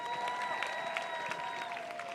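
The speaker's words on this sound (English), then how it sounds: "Let's have a round of applause for them, too." A college commencement audience claps steadily throughout, a dense even patter of many hands heard from a distance in a large space, with a faint sustained tone running underneath.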